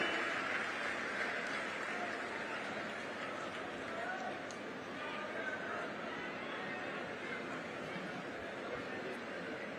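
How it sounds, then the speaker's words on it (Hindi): Audience applause at a university ceremony where a chief minister is present: steady, sustained clapping from a large crowd, even and continuous throughout, heard at a moderate distance. "सभी की जोरदार तालियां।"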